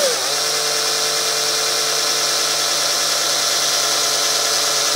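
An electric drill whines at a steady high pitch, spinning up at the start and then running continuously, loud and close.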